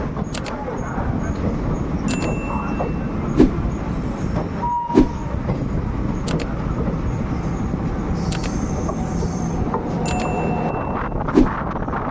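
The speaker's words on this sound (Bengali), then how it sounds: "আমাদের ট্রেন এখন আসানসোল জংশন স্টেশন ছেড়ে যাচ্ছে" A passenger train pulls out of Asansol Junction station, a steady loud rumble of wheels and carriages with a few sharp clanks and squeaks over the continuous rolling noise.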